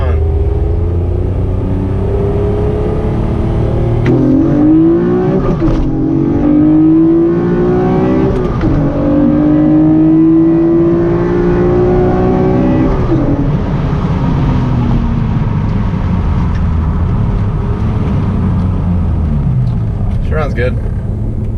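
An Acura NSX engine with a new exhaust revs repeatedly, pitch climbing and dropping through several loud pulls, heard close and continuous, with voices mixed in.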